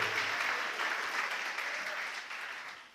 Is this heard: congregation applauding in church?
yes